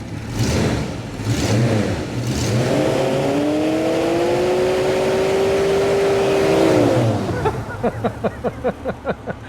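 A car engine in a workshop revs up and holds a rising, steady whine for several seconds, then cuts off into a rapid series of pulsing pops as it settles. Loud and close.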